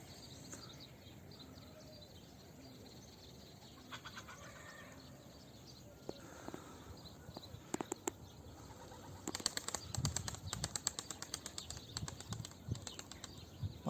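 Soft bursts of wings flapping as breeding pigeons are let out of their coop, sparse at first and then growing busier, with faint rustling in a quiet, close space.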